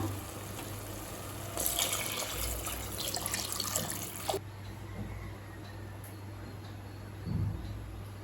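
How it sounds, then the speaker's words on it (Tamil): Four cups of water pour into a pot for a few seconds, then stop, leaving a quiet, steady low hum in a calm room. "இப்போ 4 கப் தண்ணி சேர்த்துக்கலாம்."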